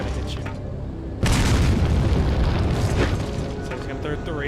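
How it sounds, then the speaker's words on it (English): Grenade blasts in the Resident Evil 4 video game land as a heavy, close boom about a second in, followed by a sustained rumbling wash and a smaller burst a couple of seconds later. "He's gonna throw a lot of grenades."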